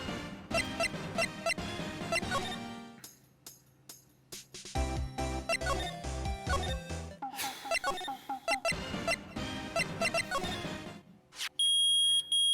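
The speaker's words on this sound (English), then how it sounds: "Nick, it's beeping. The metal detector's found something." Repeated electronic beeps from the metal detector in the video game Phoenix Wright: Ace Attorney, a sequence of loud, bright bleeps in bursts with brief gaps, ending in a sustained high tone.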